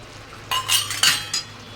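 A metal spoon clinks and scrapes against a pan a few times while fresh cream is stirred into paneer curry, faint and close, with short bright taps over a soft background hum.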